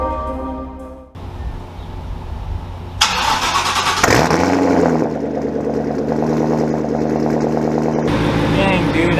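A car engine cranks and catches, then settles into a steady mid-pitched idle with a brief rev, heard close by in a garage while cars are being shuffled around.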